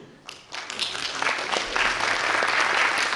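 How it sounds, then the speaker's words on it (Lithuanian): An audience at a youth sung-poetry festival and competition bursts into applause for a prize winner. The clapping starts sparse, quickly swells into a dense, sustained wash of many hands, and stays loud and close. "Paplojam."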